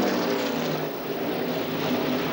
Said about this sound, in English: You can hear the exhaust though.